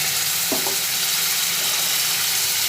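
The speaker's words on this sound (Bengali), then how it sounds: "একদম অল্প পরিমাণে এখন জল দিলাম" Curry paste of spices and salt sizzling in a hot pan as a small splash of water hits it, a steady loud frying hiss throughout with a brief burst of bubbling near the start.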